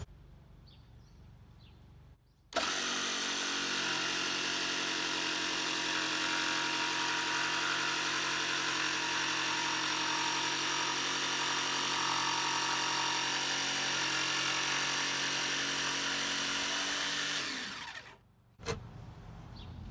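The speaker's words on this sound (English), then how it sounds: "Always make sure that the saw comes to a complete stop before you remove it so that it doesn't move and splinter wood into your face" Power saw cutting through plywood for a DIY playground build, a loud steady whine that starts abruptly, holds for about fifteen seconds and then cuts off, with a short burst after.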